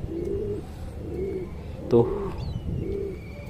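Pigeons inside a loft coo in a steady, repeated low rhythm at close range, with a brief sharp sound partway through and a single short spoken word.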